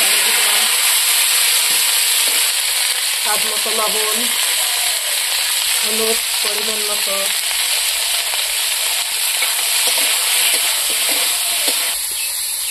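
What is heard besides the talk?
eggplant frying in oil in a kadai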